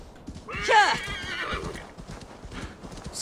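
A horse neighs with a clear whinny while hooves clip-clop steadily in the Assassin's Creed Valhalla video game, the neigh loud and close early on, then fading into quieter hoofbeats and game ambience.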